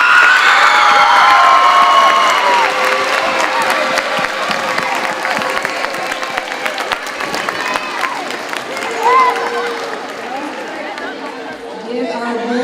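Applause and cheering at a Veterans Day celebration for Bulldog Bluegrass veterans, loud and close, with crowd chatter and some shouting mixed in, slowly easing off toward the end.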